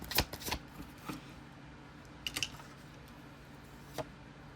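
Tarot cards being shuffled by hand during a psychic reading, a few quick riffling bursts near the start, then scattered soft flicks and taps, close and fairly quiet with no talking.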